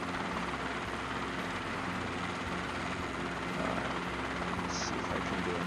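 A Robinson R22 helicopter hovers and settles in to land, its steady rotor chop and engine drone loud and continuous throughout, with a brief higher whine near the end.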